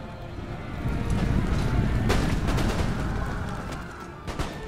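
A massed musket volley in the Empire Total War video game, heard as a broad, noisy burst of rolling gunfire with sharp cracks standing out, then a lone sharper report near the end.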